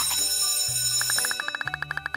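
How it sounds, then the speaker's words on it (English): A school bell in the video game Kindergarten 2 rings in a rapid, evenly spaced string of bright metallic strikes, clear and close, following a short low electronic tone with no talking. "Wait for the bell to ring and show me them at lunch."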